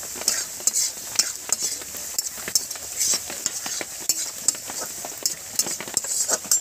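A spatula stirs turmeric and red chili powder in hot oil in a frying pan for Bengali rui fish kalia, producing a steady run of sharp, rhythmic scrapes over a constant sizzle.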